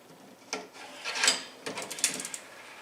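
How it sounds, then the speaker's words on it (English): Plastic closet organizer track sliding onto its mounted slide, a few faint scraping and clicking rubs in quick succession, close and quiet with no talking. "and then slide on your track."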